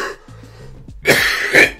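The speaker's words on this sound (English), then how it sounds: "Mind the cough." Two harsh, loud coughs close together near the end, preceded by low murmuring and a brief vocal sound, in a casual chat about car memes.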